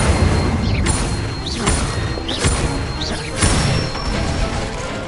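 Incendio fire spells are cast repeatedly in Hogwarts Legacy, each a whooshing flare with a rising whistle, about four in steady succession over a dense, loud bed of combat noise and rumbling effects.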